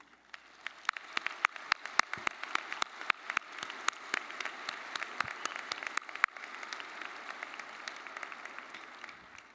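A commencement crowd in the Coliseum claps for mothers, a dense patter of many hands with sharp individual claps standing out, steady throughout and fading slightly at the end.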